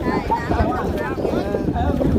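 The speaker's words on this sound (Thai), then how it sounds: "อะไรนะลมแรงลมแรงเลยนะ" Strong wind buffets the microphone with a steady, loud rumbling roar at a youth long-boat race at Bueng Si Fai in Phichit, while people talk underneath.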